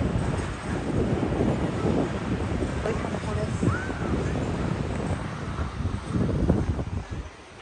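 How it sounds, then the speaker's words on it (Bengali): Wind blows across a rooftop with heavy, continuous gusty rumbling and buffeting that swells and eases throughout. It fills the scene up close, and a voice is partly heard beneath it. "অনেক সুন্দর বাতাস উপরে"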